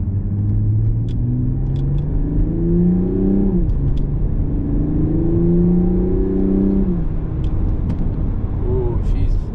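A 2021 Toyota Supra with the 3.0 engine pulls hard after a downshift, its loud close exhaust note rising through two revving sweeps with small burbles and crackles between them.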